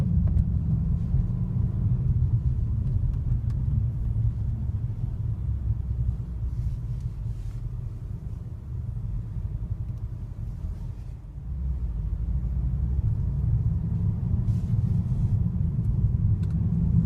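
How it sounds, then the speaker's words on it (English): A 2015 Mercedes-Benz E63 AMG S-Model 4Matic sedan accelerating, heard as a steady, loud low engine and road rumble inside the car that dips briefly mid-run before building again. "So it's just going to be a really short test drive to see how fast it will accelerate."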